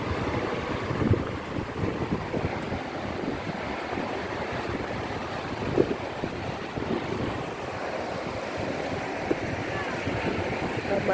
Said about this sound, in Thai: ลำธารอันใสสะอาดที่ไหลลงสู่น้ำตกไนท์แองการา